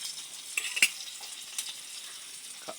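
Onions stir and fry in a pan for a sautéed smoked fish and alugbati dish, a faint steady sizzle with a few soft utensil scrapes and taps.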